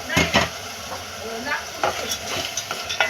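Whole masoor lentils are stirred into a hot oil-based masala in a pan, giving a soft sizzle with spoon scrapes and knocks in an irregular rhythm, faint voice in the background.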